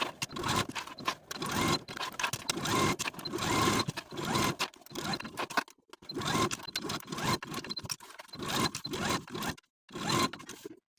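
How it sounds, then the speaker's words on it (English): Sewing machine stitching a 5/8 inch seam around the curved edges of a 1960s vintage dress, fast buzzing runs of stitching broken by short pauses, close and alone. "Now I'm going to take it to my sewing machine and sew from center back all the way up and around these curved edges"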